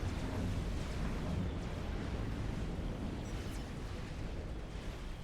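In Supreme Commander: Forged Alliance, a strategic bomber's bomb hits naval cruisers, producing a dense, rumbling, explosive roar that fills the whole stretch at close, loud level without any speech.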